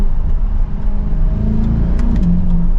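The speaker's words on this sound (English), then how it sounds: "you can hear a little bit of that exhaust note, I do have it in track mode at the moment" A 2023 Chevrolet Corvette 3LT 70th Anniversary in track mode gives a low, steady exhaust rumble with a slight rise in revs near the end, heard close and fairly loud with no talking.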